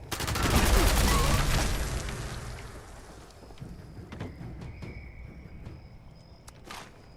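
Gunfire in the Fallout 76 video game: a dense burst of rapid shots at the start fades into scattered sharp cracks and pops with ringing tails, fairly loud and without speech.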